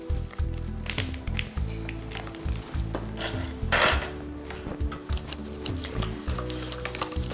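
Mayonnaise and sauce being mixed in a bowl for a salad, with a spoon repeatedly scraping and clinking against the bowl in a steady, close rhythm and a few sharper knocks.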